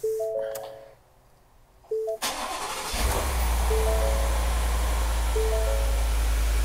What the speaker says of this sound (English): then crank it again. So this is going to be a completely dry start.